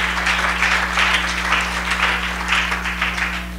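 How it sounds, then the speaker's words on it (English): Church congregation clapping hands together during a lively Pentecostal service, a dense steady patter of applause with organ-like sustained tones humming underneath throughout. "Come on, clap your hands to the Lord right now."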